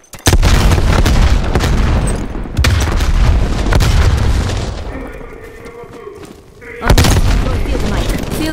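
A loud, close frag grenade explosion in the video game Call of Duty: Cold War comes as a heavy booming blast amid rapid gunfire, with a brief lull before another loud burst of combat noise.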